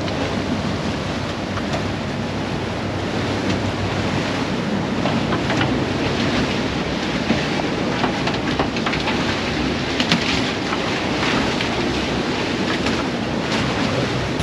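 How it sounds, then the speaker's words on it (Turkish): A fishing boat crashes through rough sea, a constant roar of waves, spray and wind buffeting the microphone, with scattered splashes and thumps and no voices. "Sert denizlerde çarpışıyoruz"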